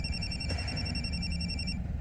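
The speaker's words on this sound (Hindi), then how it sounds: "कोमल तुम्हारा फोन बज रहा है।" A phone rings with an electronic tone, holding steady for under two seconds against a quiet indoor background with no talk.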